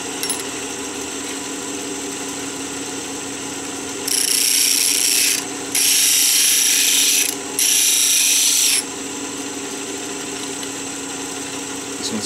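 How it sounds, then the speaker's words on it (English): A steady motor hum with three bursts of harsh grinding, a few seconds each with short gaps, as a 5/16 or 1/4 inch drill bit is sharpened in a jig. "I'm going to sharpen a 5/16 and a 1/4 inch drill bit"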